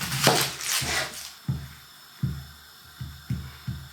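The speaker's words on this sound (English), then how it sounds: "top, tail, peel, half and slice the onion" A knife chopping and slicing an onion on a board, a rustle of peeling giving way to a steady run of six or so crisp, close thuds at even intervals, with no talk over them.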